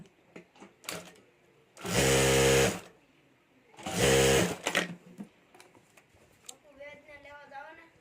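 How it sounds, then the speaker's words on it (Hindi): Electric sewing machine stitching a zip onto the lining of a sling bag, two loud close bursts of a few seconds each, humming and rattling, between stretches of someone speaking. "और यहाँ हमें सिलाई कर देनी है।"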